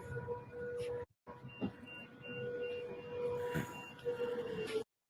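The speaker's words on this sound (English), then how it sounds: "We have sirens going on in Bahrain." Air raid sirens sounding in Bahrain during a missile attack on U.S. bases, a sustained wailing tone over a noisy background with a brief dropout, heard from a distance with some talk mixed in.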